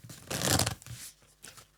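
Deck of tarot cards being shuffled by hand, a brief burst of crisp riffling and slapping followed by a few softer shuffles, close and moderately quiet with no talking.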